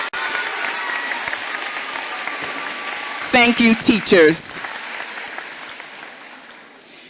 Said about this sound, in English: honor your teachers with a round of applause